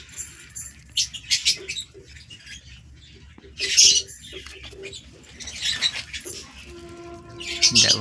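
Pigeons feeding close by, with soft pecking and scratching, brief wing flutters and a few chirps and squeaks in short bursts over a quiet background.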